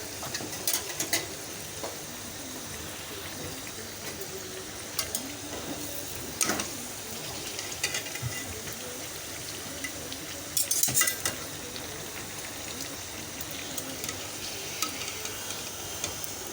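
An egg and flour snack frying in a pan makes a low, steady sizzle, with scattered clinks and scrapes of a utensil against the pan close by.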